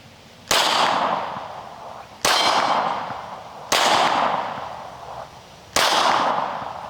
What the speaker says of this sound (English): You gotta make some pings for him. I know y'all wanna hear that metal talking, singing